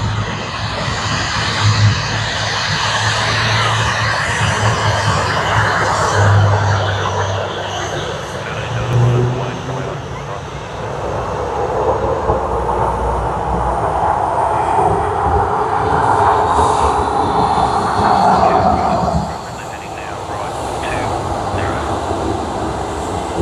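A Virgin airliner at Sydney Airport sends a loud, continuous jet engine roar and whine across the whole stretch, with a broad rumble that swells and shifts midway, while a voice talks faintly underneath.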